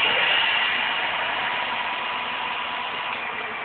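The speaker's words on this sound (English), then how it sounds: "now this is flat out full throttle from a standing start" An electric bicycle motor runs flat out at full throttle on a heavy-duty stand, producing a loud, continuous whirring drone close by that fades off slightly toward the end.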